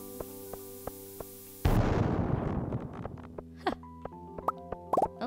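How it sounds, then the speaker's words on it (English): Cherry bomb going off in Stardew Valley, one sudden loud blast that breaks over light background music and decays through a rumbling, crackling tail, followed by short bright chimes and pops. "I've never actually used a cherry bomb before."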